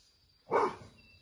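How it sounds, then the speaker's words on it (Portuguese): One short, sharp dog bark sounds fairly close against a quiet background. "É só latido mesmo."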